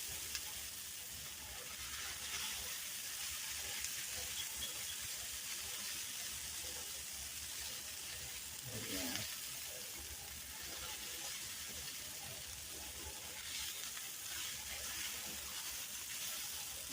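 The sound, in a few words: leftover hash browns frying in a pan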